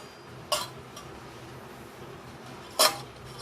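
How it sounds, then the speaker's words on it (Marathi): A metal plate is set on top of a khichdi-style milk mixture inside a pressure cooker vessel, making two separate, sharp, close metallic clinks about two seconds apart over quiet room tone. "आता मी यावर ताटली ठेवणार आहे।"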